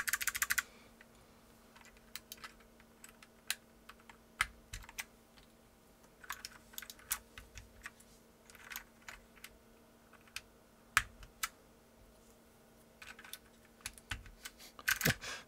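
Clicky typing on a custom mechanical keyboard with blue Alps switches, the MiniVan R2 layout, sounds as irregular bursts of sharp close keystrokes, sometimes in quick flurries, over a low steady background hum.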